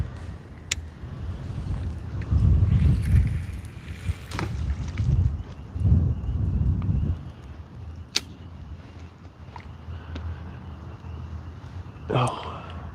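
Strong outdoor wind while catfishing, low rumbling gusts buffeting the microphone in heavy surges, with occasional sharp clicks and knocks nearby.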